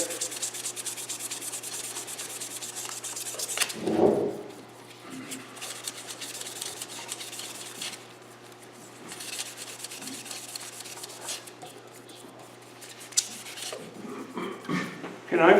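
Foam-backed 600 to 800 grit abrasive sands a ring with close, continuous scratchy rubbing strokes. A brief louder scuff and a short pause break the run, and a low hum sits underneath.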